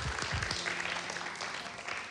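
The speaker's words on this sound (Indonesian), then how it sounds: "Kasih tepuk tangan buat Jordan, teman-teman." Audience applause at a church youth and young adults service, a dense, steady wash of clapping filling the room for its full length, with a few louder claps near the start.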